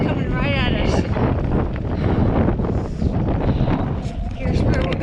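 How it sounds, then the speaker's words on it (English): Loud, roaring wind buffets the microphone as riders head straight into it on a hot desert trail, a continuous rumbling gust with talk partly buried beneath. "So the wind is good and then it keeps us cool."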